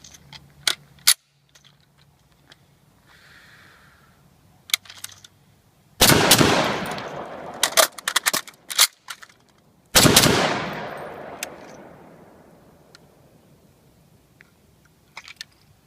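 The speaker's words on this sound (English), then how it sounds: "We're going to do an emergency magazine change, then another controlled pair, do a quick scan" Gunfire on a defensive firing range: sharp paired shots, a string of rapid close shots after six seconds and another burst at ten seconds, each ringing out with echo, separated by quieter handling sounds of a magazine change. No talking.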